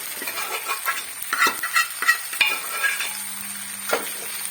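Beef roast stirred in a frying pan, a spoon scraping and turning the meat in bursts over a steady frying sizzle, close and moderately loud, with no talking.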